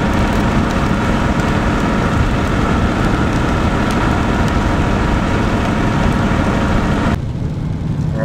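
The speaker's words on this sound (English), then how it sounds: "Gotta go through this heavy rain here." Heavy rain pounds a moving car during a storm from hurricane remnants, a dense, steady roar of drops on the roof and windshield, loud and close, with the rumble of the road beneath and no talking until it eases briefly at the end.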